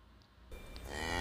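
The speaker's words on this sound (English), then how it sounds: "C for cow." A cow moos in a single drawn-out, rising call that swells in loudness toward the end and stands alone without talk.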